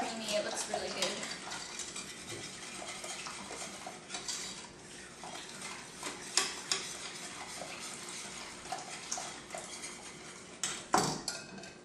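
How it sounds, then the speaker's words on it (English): Coconut meringue pie filling being stirred in a pot, with repeated close scraping and clinking of a utensil against the metal and a faint sizzle underneath, uneven in rhythm with a few sharper knocks. "I'm stirring until this comes to a boil"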